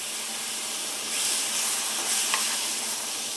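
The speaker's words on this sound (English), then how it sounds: "we're going to be mixing this around, trying to get as many lumps out as we can" A flour roux being stirred with milk over low heat for a cheese sauce, a soft steady sizzling hiss with scraping swirls of the utensil, close and continuous, no voices.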